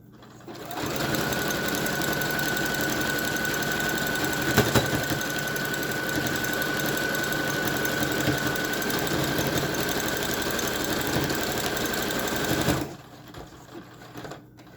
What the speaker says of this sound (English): And that is how I stitch my handles on.